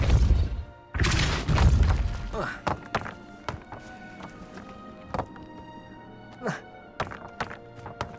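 Spell-casting effects from Hogwarts Legacy on PS5, including the Depulso force spell, come through as a loud whooshing burst and then a series of sharp thunks and impacts. A voice speaks the spell incantations over them.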